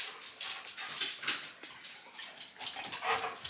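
A dog at an equestrian yard whimpers and yips in quick high-pitched bursts, close and fairly loud, with short barks mixed in and no talk.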